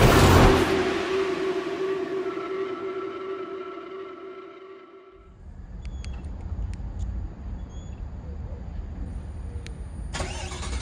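A 2021 Chevrolet Silverado LT Texas Edition pickup truck starts up with a loud starter crank and engine catch, then settles into a steady, close idle rumble with a few faint clicks.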